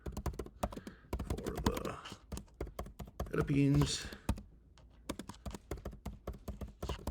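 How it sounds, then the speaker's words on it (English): Laptop keyboard typing as an airline entry-requirements search is entered, rapid clicky keystrokes running throughout under a talking voice. "we're gonna start by typing entry requirements"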